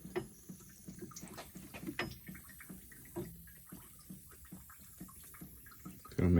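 Water leaking from the plug openings of a wall mount faucet at a basement sink, still under pressure, spattering and dripping in uneven bursts, close by, with a louder splash at the end.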